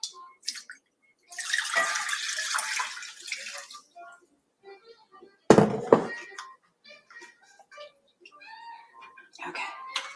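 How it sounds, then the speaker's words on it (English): Tap water gushes into a pan for poaching dumplings for a couple of seconds, followed by a brief clatter and scattered kitchen clinks, with a voice speaking in between. "And we'll get the water in there now so it gets heated."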